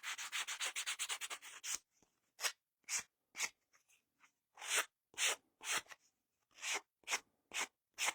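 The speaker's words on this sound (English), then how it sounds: "And scruff up that brim of the hat a little bit" Rapid rough scraping and scuffing across the brim of a craft hat for a Christmas door hanger, a fast burst of dense strokes followed by slower separate scrubbing passes, close and fairly quiet with no talk.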